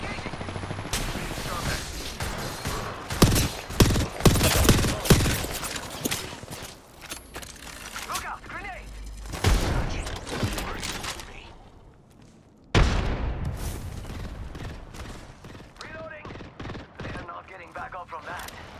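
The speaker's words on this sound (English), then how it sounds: "Taking fire! Engaging! Being shot at." Video game gunfire, with dense bursts of rapid shots and impacts crackling almost continuously, loud and close. A synthetic voice line is heard over the shooting, and a brief lull falls before another heavy burst.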